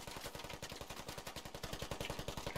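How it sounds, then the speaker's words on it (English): Rapid automatic gunfire in a military shooter game, a steady burst of evenly spaced shots lasting a couple of seconds, fairly faint and with no talking. "Trying to shoot through the floor."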